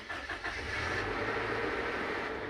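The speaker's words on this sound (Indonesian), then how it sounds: "Nah, itu mesin udah dihidupkan," Toyota Innova engine turning over and catching, then settling into a steady idle, heard close and loud with no talking.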